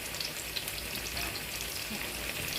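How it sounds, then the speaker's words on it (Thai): Eggplant frying in hot oil in a pan, a steady, dense sizzle that carries on unbroken for the whole stretch with no voices. "เดี๋ยวทอดมะเขือให้สุก"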